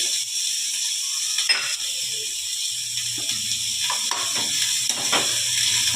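Onions for moong dal curry fry in a pan, giving a steady close hiss with a few soft scrapes and stirring clicks.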